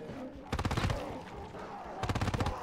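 A rapid-fire gun in a zombies video game lets off two loud, fast bursts of automatic fire, each about half a second long, with a pause between them and a faint voice underneath.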